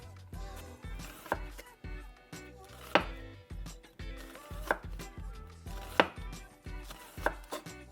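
Knife chopping onions on a cutting board at home, a series of sharp, close, fairly loud thuds in an uneven steady rhythm, about a dozen strikes with no talk.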